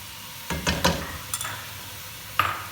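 One large finely chopped onion goes into a pan for a kofta and egg curry. A few soft clinks and stirring scrapes are followed by quiet frying, with a brief clatter near the end.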